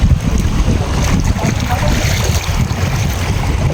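A boat crosses a river with a loud, continuous rushing of water and engine rumble, buffeted by heavy wind noise on the microphone.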